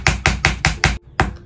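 A giant egg's shell cracked from underneath with a series of sharp, close taps: five evenly spaced knocks, a brief pause, then a sixth, with no talking.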